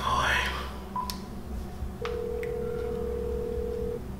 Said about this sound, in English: He decided to use the home phone to call his cell phone